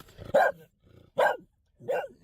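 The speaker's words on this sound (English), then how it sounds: "Now, another dog." A dog barks three times at a distance, sharp separate woofs spaced about a second apart, with a faint low rumble between them.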